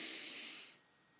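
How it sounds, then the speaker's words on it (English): A single deep breath drawn in through the mouth as part of a breathing exercise, soft and close, lasting under a second before fading to near silence, with no talking. "basically you're breathing in about this deep"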